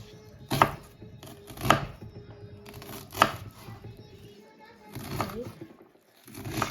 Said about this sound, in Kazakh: Пиязды былай тура.